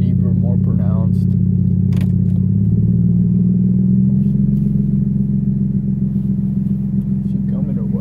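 A car with its exhaust cutout open idling in drive, a deep, loud, steady rumble whose pitch drops and settles lower partway through, with talking over it.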